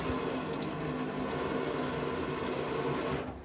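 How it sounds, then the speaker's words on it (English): Water runs steadily from the hot and cold taps inside an Elddis Suntor 115 caravan, a close, continuous hiss with a faint pump-like hum beneath, cutting off abruptly just before the end, with no one talking. "Open the taps up, wait until the water is running freely on both hot and cold"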